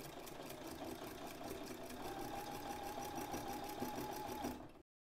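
A sewing machine fitted with a non-standard presser foot runs slowly through thick handwoven fabric, producing a steady, close, rhythmic mechanical chatter of rapid needle strokes that stops abruptly at the end.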